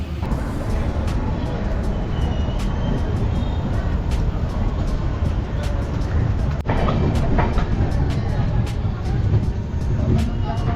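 Steady rumble of the Dhauli Express running along the tracks from Kolkata to Puri, with rhythmic clicking from the wheels throughout.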